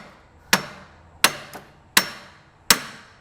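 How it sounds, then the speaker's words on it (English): Sharp hammer blows ring out on a rusted rack and pinion stuck in its clamp joint, four main strikes spaced evenly with a lighter tap after the second, metallic and close with no talk. "I went ahead and disconnected the rack and pinion so that I could drive it out with a hammer"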